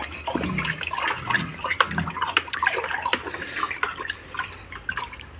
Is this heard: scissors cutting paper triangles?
no